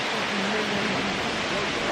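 Falling water from a waterfall near Paraty, Brazil, roars in a continuous, even hiss, with a faint human voice murmuring beneath the steady rush.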